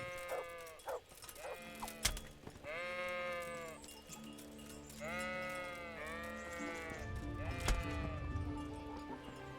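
Sheep bleating in the video game Kingdom Come: Deliverance, several drawn-out bleats in sequence, loud and close, with a low rumbling thud near the end.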